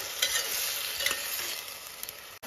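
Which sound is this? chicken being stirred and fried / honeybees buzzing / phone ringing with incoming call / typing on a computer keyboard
chicken being stirred and fried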